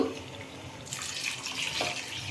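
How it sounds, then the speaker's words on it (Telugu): Water poured into a pot of chicken biryani, a steady hissing splash that grows fuller after the first second, close and fairly quiet with no talk. "ఉడికినాక నీళ్ళు పోసుకోవాలండి"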